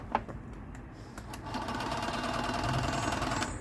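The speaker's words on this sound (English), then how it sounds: "Just see if the compressor will work." A portable tyre air compressor powered from a car battery, used while fitting the spare on a Citroen Berlingo van, runs with a steady buzzing rattle that builds slightly and continues throughout without speech.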